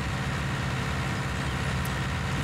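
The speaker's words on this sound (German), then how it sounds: "Da kommt der Zug angefahren." A steady low mechanical rumble of a train pulling in within the farming simulator game Landwirtschafts-Simulator 19, continuous and droning with no voices.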